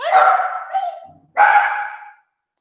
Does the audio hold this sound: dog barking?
yes